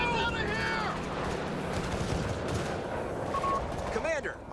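Heavy machine gun fire from the Company of Heroes 3 strategy game on an Italian beach landing map, with dense rattling bursts and booming impacts mixed with battle voices throughout.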